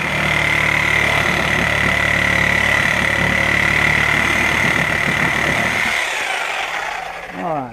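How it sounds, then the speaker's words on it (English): A Sawzall reciprocating saw cuts the tabs off a wooden gate, a loud, steady buzzing roar running for about six seconds before it cuts out, with a brief whine as the blade winds down. "Alright, so I did it with my Sawzall."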